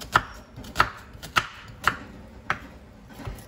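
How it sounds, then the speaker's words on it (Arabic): Onion sliced with a knife on a board, six crisp, evenly spaced chops close up, with quiet pauses between strokes. "قطعها كيما هكاك بهذه الطريقه"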